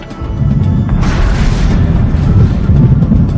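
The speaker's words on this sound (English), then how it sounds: "An explosion follows and causes waves, creating new space, just as in the physical universe." A heavy explosion effect rumbles loudly throughout, a sustained deep boom with a brighter blast burst partway through, no voices.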